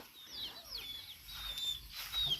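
Several chickens cluck and squawk in short bursts close by, overlapping each other against a quiet background.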